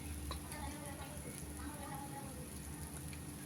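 Sliced onions fry in a pan while being stirred: a soft, continuous sizzle with faint scraping, quiet and even throughout, with a low hum underneath.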